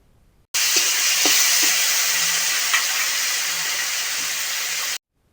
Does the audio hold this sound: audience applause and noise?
no